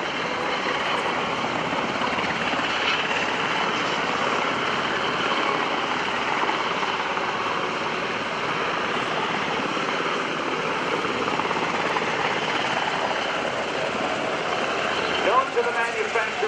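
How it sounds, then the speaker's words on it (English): UH-60 Black Hawk military helicopter flying at an Air National Guard open house and airshow: a continuous loud rotor and turbine roar sustained throughout, with a commentator's voice carried over the noise. "The remarkable UH-60 Blackhawk provides soldiers with the speed and mobility in the middle of action"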